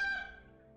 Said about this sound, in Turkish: Edoras'tan gelen o horoz sesi.